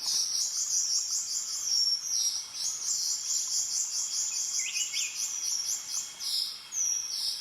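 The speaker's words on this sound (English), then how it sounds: "And now there's some cicadas coming up, I think. You can hear that buzzing sound." A continuous high-pitched buzz of cicadas pulses steadily throughout, with a faint bird chirp breaking through briefly midway.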